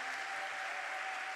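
Audience applause at a ceremony launching a national scholarship programme, steady dense clapping filling the whole moment without pause, fairly distant and even in loudness.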